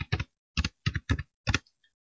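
Short bursts of typing on a computer keyboard into a Word 2003 document, a few quick key clicks separated by brief pauses, close and clear with no talking.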